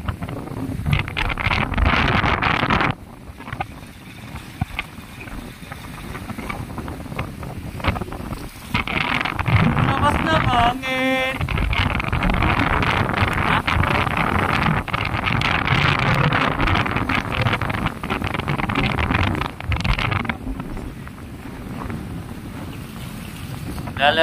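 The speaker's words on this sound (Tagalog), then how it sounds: "Lakas ang hangin." Strong wind buffets the microphone in a loud, continuous roar with gusts on a fishing trip, mixed with water and boat noise and occasional voices.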